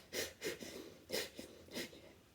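Heavy controlled breaths come during pushups, four or five forceful huffs at an uneven pace, close and alone.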